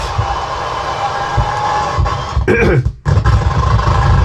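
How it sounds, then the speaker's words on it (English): Loud arena crowd roar in a Bulls versus Hornets basketball video game, a steady dense din with grunting surges throughout and a brief dip near the end before the noise swells back. "Wow. Listen to that crowd."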